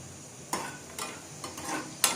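Broken wheat being stirred and dry-roasted in a pan over a low flame for payasam, giving a few soft, separate scraping and rustling strokes spaced about half a second apart, close and quiet, with no voices.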